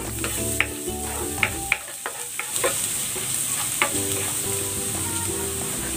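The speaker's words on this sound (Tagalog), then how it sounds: "Igigisa ko na tong bawang." Garlic sautéing in hot cooking oil, a close, bright sizzle with several sharp spatters and spoon clinks as it is stirred, steady for the whole stretch.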